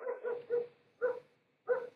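Dogs bark in a quick run of about five sharp, close woofs, the first three back to back and the last two spaced out by short pauses, with no talking.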